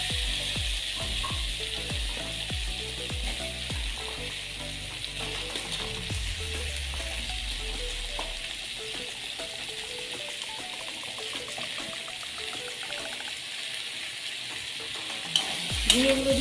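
Chopped ridge gourd sautéed in a pan for a light prawn curry, a soft steady sizzle with a run of rhythmic scraping stirs early on, then quieter frying, and a brief clatter near the end.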